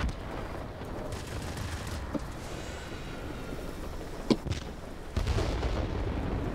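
A bomb bursts in the World of Warplanes air combat game, a sharp boom near the middle followed by a heavier rumbling blast over a steady low engine drone, with no talking.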